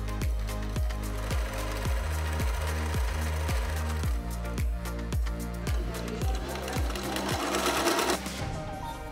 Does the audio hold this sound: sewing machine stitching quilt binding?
yes